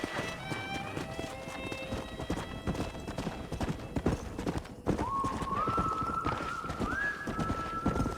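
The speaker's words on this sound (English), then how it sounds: "We got some fine horses." Rapid horse hooves clip-clopping close by over a busy background in the video game Red Dead Redemption, with a horse's whinny rising partway through.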